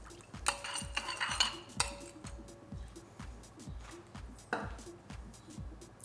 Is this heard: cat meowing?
no